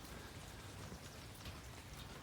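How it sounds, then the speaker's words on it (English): Light rain falls outdoors as a steady, faint, even hiss of fine drops pattering on surfaces, with no voices. "If it wasn't raining right now, well, it's kind of let up a little bit."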